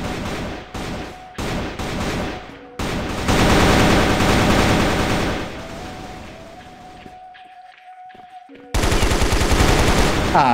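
Bursts of Galil assault rifle fire in the shooter game CrossFire, several rapid volleys with brief gaps, loud and close, ending in a dense automatic burst.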